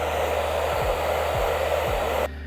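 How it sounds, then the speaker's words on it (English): Blow dryer on a low heat setting drying a hat, a steady loud broadband whoosh of airflow with a few soft low thumps, cutting off abruptly near the end. "you can take a blow dryer on low heat setting and do this"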